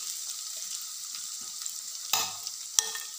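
Red pumpkin bhaji is sautéed in a pan as a soft, faint, steady sizzle, broken near the end by a couple of sharper knocks or scrapes of the spoon.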